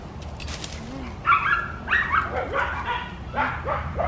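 A pitbull barks in a string of sharp, mid-distance yips and barks with brief whimpers between them, over low background noise.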